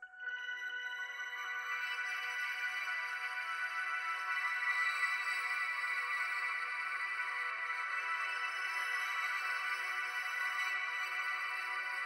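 A piano pattern run through the Finisher Micro plugin on its Infinity preset becomes a shimmering, sustained high tonal wash, steady and fairly quiet, drifting on for about twelve seconds with no distinct note attacks and no voices.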